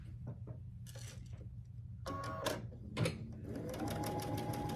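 A sewing machine stitches quilt pieces together in steady rapid bursts, starting and stopping across several runs. The mechanical whir is close and clear, with no talking over it.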